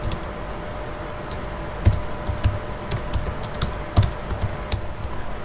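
Fingers type on a computer keyboard in a quiet room. The key clicks come in uneven bursts, with a few louder keystrokes and short pauses in between.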